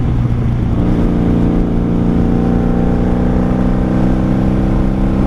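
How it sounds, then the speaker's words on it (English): A 1995 Honda Magna VF750C V4 motorcycle with four cylinders and four separate exhaust pipes runs underway, a loud, steady engine drone with a dense humming tone held evenly throughout. "V4 Honda Magna. 4 cylinders, guys. 4 separate pipes going out the back."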